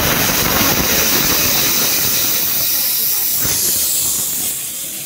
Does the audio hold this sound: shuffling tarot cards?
no